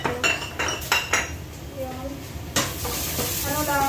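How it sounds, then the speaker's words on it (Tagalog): Chicken sautés for a stir fry with potato in a pan, a steady sizzle running under sharp clinks and scrapes of a utensil stirring against the metal. "Gigisa ko lang siya guys."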